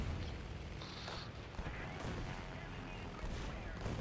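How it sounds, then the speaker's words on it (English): Aircraft tail gun firing in a War Thunder air battle, with the F3F-2 chased by a Bf 109: dense, continuous gunfire and booms under a constant engine roar for the whole stretch, loud and close. "Oh, he does know how to use a tail gun."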